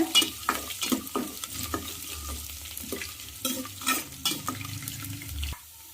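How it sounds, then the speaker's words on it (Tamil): Curry leaves, cumin, black pepper and ginger sauté in a pan for masala pongal, giving a steady sizzle broken by the scrape and clatter of stirring. The sound is close and busy, then cuts off suddenly near the end. "நல்லா வதக்கி விட்டுக்கோங்க."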